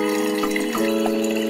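Water runs steadily into a container, a continuous close-up rushing pour with a slight rise in pitch as it fills.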